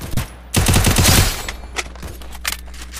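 A burst of rapid automatic gunfire in a mobile shooter game, loud and dense for about a second, followed by a few scattered single shots and faint game noise.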